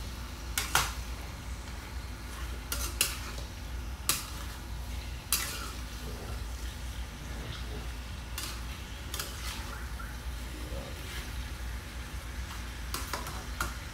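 Stingray pieces are sautéed with ginger and chili in a pan, giving a continuous close sizzle broken by sharp, irregular clacks of a utensil stirring against the pan, with no talking.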